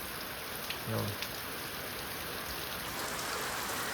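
Heavy morning downpour gives a steady, dense hiss of rain hitting surfaces nearby, continuous and even from start to finish, with a faint brief voice-like sound partway through.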